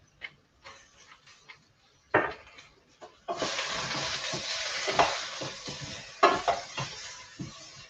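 Zucchini frying and browning in a hot pan for a zucchini, pea and basil soup, with a steady close sizzle swelling after a few scattered scrapes and taps, punctuated by stirring knocks.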